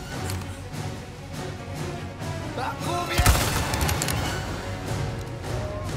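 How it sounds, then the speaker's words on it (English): Rapid gunfire in Resident Evil 4 Remake rings out as a dense burst of shots with one sharp, heavy blast near the middle, set against a steady game soundscape. "Shooting, keep shooting, and reload"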